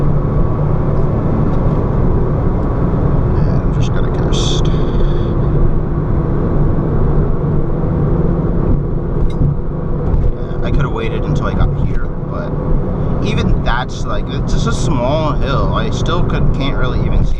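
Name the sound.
fast car accelerating through a blind corner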